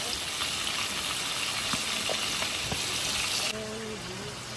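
Tulingan fish frying in a pan at an outdoor countryside kitchen, a dense, steady sizzling hiss that holds loud throughout, with a faint tonal sound near the end.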